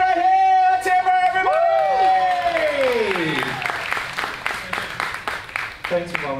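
A crowd at a horror makeup show at Universal Orlando bursts into loud, sustained applause and cheering for a volunteer, following a host's long drawn-out shout, with clapping continuing near and dense throughout.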